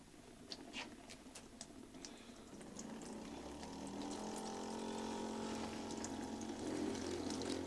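Water forced through a homemade tooth jet into a bucket, a steady gurgling spray and low pump hum that grows and thickens partway through, with scattered drips and splatter throughout.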